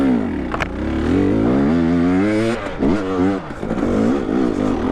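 Dirt bike engine revving hard on a steep cliff trail climb in second gear, loud and close, with rising and falling pitch sweeps and a brief dip midway before surging again.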